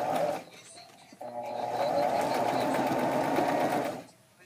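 A sewing machine runs in a brief burst, then a longer steady whir of stitching on a boy's necktie, close and clear, stopping cleanly at the end.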